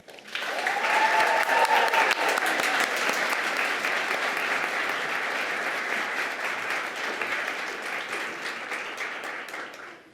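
A large audience at a White Coat Ceremony breaks into loud, sustained applause welcoming a speaker to the stage, a dense wash of clapping that swells quickly and holds steady for about ten seconds before tapering slightly.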